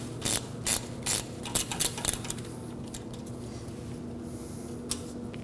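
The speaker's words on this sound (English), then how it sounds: "We can use a 10mm socket and go ahead and remove the 10mm bolt holding the sensor into" Socket ratchet loosening a 10mm bolt on the rear ABS wheel speed sensor of a 2009-2014 Ford F-150, several loud close clicking bursts in quick succession, then a lighter intermittent ratcheting with a final tick, no talk.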